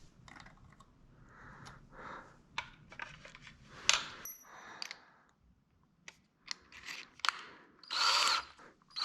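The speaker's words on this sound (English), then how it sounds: "make sure that you're holding onto the crank and drill out the crank bolt." A power drill whirs in several bursts, starting and stopping, drilling out a crank bolt on a Specialized Stout Pro crank, with sharper grinding spurts and a brief high metallic squeal, close by.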